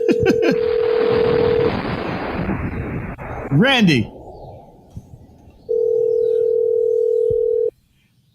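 A telephone call is placed during a live morning show: a steady dial tone sounds, breaks off amid other noise and effects, then returns loud and unbroken before stopping abruptly, with someone briefly speaking.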